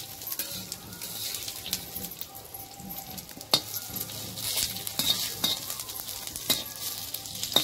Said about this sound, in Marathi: चांगलं भाजून घ्यायचं